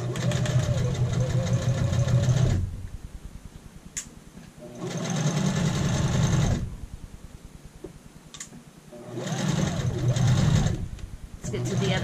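A sewing machine stitches a shirt shoulder seam, running in three bursts of steady whirring with short reverse back stitches, and quiet pauses between runs.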